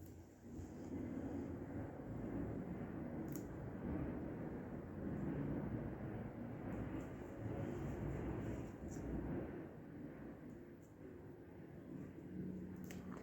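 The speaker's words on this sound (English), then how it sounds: "I've got so many airplanes that fly over the house" A low, steady roar of an airplane passing overhead, distant but sustained for several seconds, with faint wind noise.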